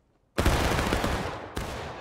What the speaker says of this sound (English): And hitting him with a hell of a volume of shot here